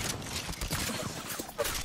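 Rapid gunfire bursts in the video game Apex Legends form a dense, loud fusillade of overlapping shots over the game's background noise.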